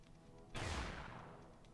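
Single gunshot from a handgun in the video game Psycho-Pass Mandatory Happiness, a sudden sharp blast with a low thump that rings out and decays over about a second above quiet background noise.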